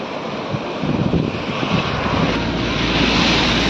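Fresh rainwater in the Shetrunji River rushes past the side of a bridge as a continuous, dense, loud roar that swells slightly as it goes on, with no voices.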